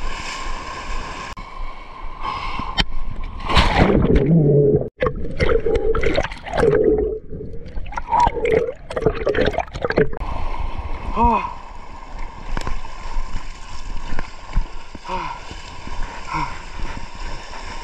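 Rough, choppy sea water sloshing and splashing around a small boat during an island crossing, steady and close, with voices talking over parts of it.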